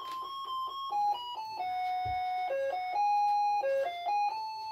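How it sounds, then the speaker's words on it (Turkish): An electronic apartment intercom doorbell chime plays a repeating sequence of clear tones, close and steady, with no voices. "Zili de çaldırdım. Zili öttürdüm."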